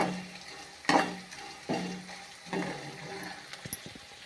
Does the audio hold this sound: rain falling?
no